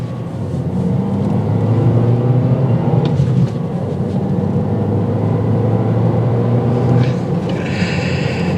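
A 2022 Toyota Corolla engine pulls away from a standstill, a loud steady low rumble building as it accelerates, with road and cabin noise mixed in and no talking.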